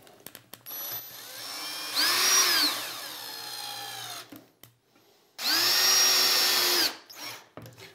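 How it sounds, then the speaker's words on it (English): A power drill drives screws to fix brackets onto an overlay drawer panel, two close, loud whirring bursts that pitch up and down as each screw seats, separated by quiet handling clicks. "And now I'll go about the business of screwing them in place."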